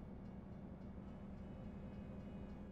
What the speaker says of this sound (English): Ooh, I hear a train.